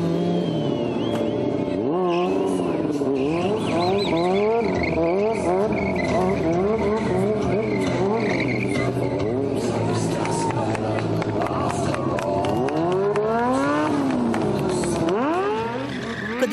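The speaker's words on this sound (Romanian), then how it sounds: "5 tineri din Bulgaria, campioni naționali la cascadorie pe motocicletă, au făcut un adevărat spectacol pe două roți." Stunt motorcycles ridden by national champions rev and screech their tires through a street show, with continuous engine whine, rising revs and skid squeals over a busy crowd backdrop.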